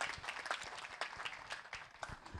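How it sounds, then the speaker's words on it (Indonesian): Crowd applause from students at STEMSI, dense and steady clapping from many hands throughout, with no voices over it. "Tepuk tangan dulu buat semuanya biar nggak serius."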